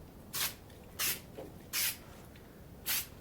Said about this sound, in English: we're gonna spray that along the back of this stencil